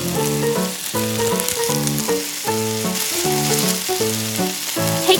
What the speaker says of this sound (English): We fry until golden on both sides.